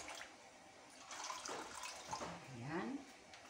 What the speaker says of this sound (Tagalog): ilalagay tayo ng tubig sa kawali